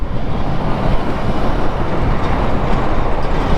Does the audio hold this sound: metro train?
yes